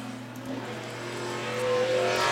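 A race car takes the green flag to start its qualifying lap at a racing event, its engine note climbing steadily in pitch and volume as it accelerates away, heard without speech.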